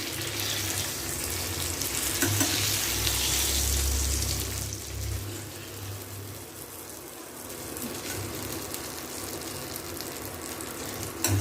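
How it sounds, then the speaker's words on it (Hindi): Eggplants frying in hot oil in a pan for stuffed bharwa baigan, giving a steady close sizzle with some low rumble and light stirring, no talk. "हम बैगन को भून लेते हैं।"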